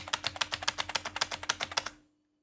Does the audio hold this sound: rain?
no